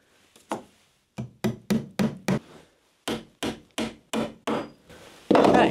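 A hammer drives nails into a wooden garden obelisk, a dozen sharp close knocks in two quick rhythmic groups, followed by a brief rustle.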